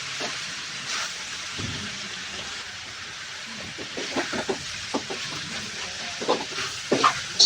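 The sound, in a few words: green peas stirred and sautéed in pan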